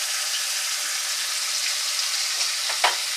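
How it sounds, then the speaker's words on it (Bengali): Cumin and green chili paste hitting a hot pan, giving a steady close sizzle and hiss of frying throughout, with a brief louder spatter near the end. "এবার আমি জিরা কাঁচা লঙ্কা বাটাটা দিয়ে দিচ্ছি।"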